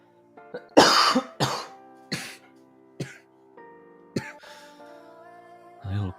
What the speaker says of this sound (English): A little cough again.